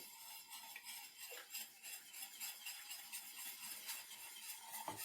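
A utensil scrapes and clinks continuously in a bowl as vegetable oil is stirred into a cold baklava mixture, a busy close kitchen clatter with no talking.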